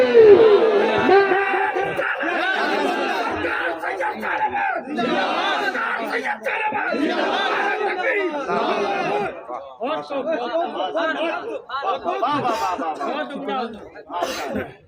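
A large religious gathering roars back in unison to a Naara-e-Takbir call, loud sustained massed shouting that swells in waves across the whole span, with overlapping voices and chatter, close and dense.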